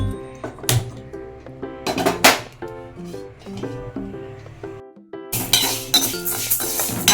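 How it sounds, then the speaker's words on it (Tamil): Moong dal dry-roasting in a pan without oil: a spoon clinks and scrapes against the metal pan in quick irregular bursts, close and fairly loud, with a short pause before the stirring picks up again. "இப்போ அந்த பாசிப்பயிரை வறுக்கணும். ஆமாம், எண்ணெய் இல்லாமல் வறுக்கணும்."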